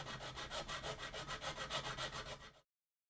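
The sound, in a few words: filing the edges of a hole in a plastic faceplate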